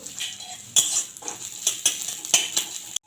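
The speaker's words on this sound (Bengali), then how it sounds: "এবারে দিয়ে দিচ্ছি পেঁয়াজ কুচুনো" Chopped onion goes into a wok of hot oil tempered with panch phoron and dried red chillies. A spoon clatters repeatedly against the metal pan over a steady background sizzle, and no one speaks.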